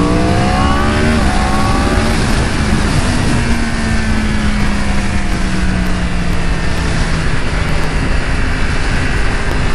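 A motorbike accelerates past on the road, a loud, close engine roar whose revving pitch climbs and then drops away into a steady drone as it passes.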